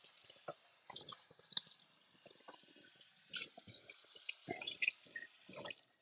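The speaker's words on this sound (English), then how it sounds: "now I'm just gonna rinse my cutting board off real quick" Tap water rinses a cutting board in a kitchen sink, with faint, uneven splashing and dripping bursts heard close by in an otherwise quiet room.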